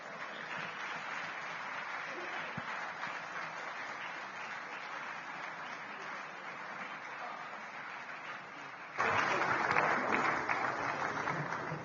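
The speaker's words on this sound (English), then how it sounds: "Please join me with the resounding warm applause as we welcome Olusegun" Warm applause from a large audience welcoming a guest speaker at a Nigerian governance and democracy forum, a dense sustained roar of clapping that swells louder near the end.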